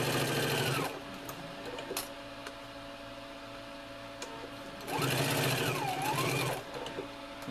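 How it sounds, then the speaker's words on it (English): Sewing machine stitching a jacket from a Kwik Sew 3091 pattern: two close, loud runs of steady motor whirr and rapid needle chatter, rising and falling in speed, separated by a quieter pause with faint handling clicks. "If you're not used to sewing, go kind of slow when you go around the under the arm area."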